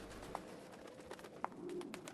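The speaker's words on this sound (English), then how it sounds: "The birds." Birds coo in Drakengard 3, a few soft, brief calls scattered over faint ambient background noise, with no one talking.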